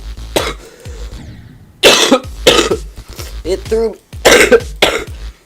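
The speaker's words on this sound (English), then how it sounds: "No, I got a cough." Several harsh coughs in close succession, loud and near, with a voice speaking briefly between the bursts.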